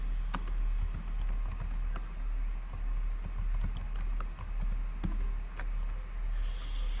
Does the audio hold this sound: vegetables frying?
no